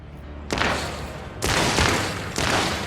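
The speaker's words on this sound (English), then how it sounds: "Alright, we're hearing shooting down here." Bursts of gunfire in the video game Rogue Trader, three loud broadband volleys roughly a second apart, each with a rumbling boom tail, and no voices.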